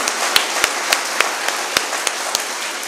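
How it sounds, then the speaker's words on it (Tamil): Sparse, feeble hand clapping from a small audience at a motivational speech event, roughly ten separate claps scattered irregularly over a few seconds against a quiet room. "எனக்கு என்னமோ இது ரொம்ப ஃபீபிளான கைத்தட்டல்னு தோணுது"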